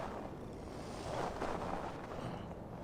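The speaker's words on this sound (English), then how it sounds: "Windy. Storm coming." Gusting wind ahead of a storm in the video game Assassin's Creed Valhalla, a steady low roar with slight swells, faint and continuous without voices.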